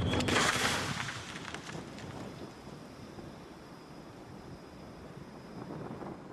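A Napoleonic cannon firing canister shot: a sharp, loud blast at the start followed by a long rumbling decay that fades slowly over several seconds, heard alone.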